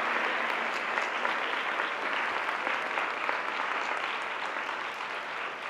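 An audience at a sustainability conference session gives Rob Hopkins of the Transition movement a sustained, even round of applause, a thick wash of many hands clapping that holds steady throughout.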